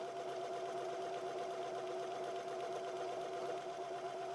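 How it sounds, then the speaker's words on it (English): A Janome 3160QDC sewing machine stitches a buttonhole on its own, a steady close mechanical whir with a fine rapid needle patter that runs evenly and unbroken, with no talk. "I can push the start button and it's going to make our buttonhole for us automatically"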